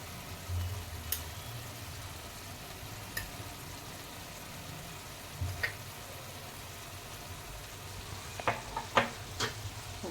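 Red chili and garlic paste sautés in a pan for chicken pav bhaji, giving a soft, continuous sizzle broken by occasional scraping clicks from stirring, with several sharper taps near the end and no talk.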